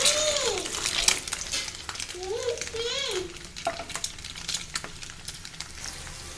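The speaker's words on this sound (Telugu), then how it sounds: "గుడ్లు అయితే వేసేస్తున్నాను." Eggs frying and being stirred in a pan at home, with close, steady sizzling and a few scraping stirs, while a voice talks over the cooking in a few brief bursts.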